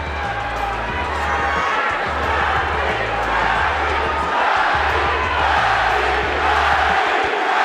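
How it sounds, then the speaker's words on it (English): A large boxing-arena crowd chants "Manny" in a steady repeating rhythm, loud and sustained, with a roaring arena ambience around it. "Crowd chanting, Manny, Manny, Manny, as we expected."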